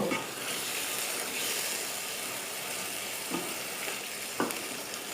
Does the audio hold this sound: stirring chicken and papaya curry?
yes